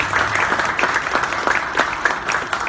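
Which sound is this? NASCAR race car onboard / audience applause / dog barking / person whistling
audience applause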